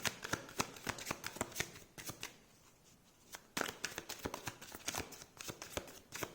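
Tarot cards being shuffled for a reading: quick, crisp riffling bursts in close succession, with a brief quieter pause midway before the rapid flutter resumes, heard close up with no talking.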